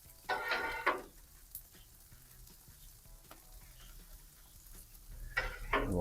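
Sausage and beef hit a hot Blackstone griddle while making meat lovers pizza roll pinwheels, with short bursts of sizzling and scraping at the start and end around quieter clinks and faint frying.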